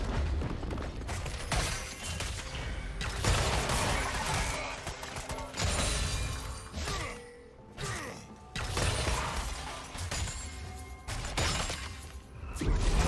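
A turret being destroyed in League of Legends, dense crashing, shattering and mechanical clatter with repeated impacts over busy game noise.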